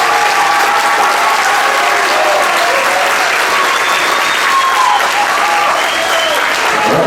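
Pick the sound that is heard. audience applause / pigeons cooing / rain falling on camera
audience applause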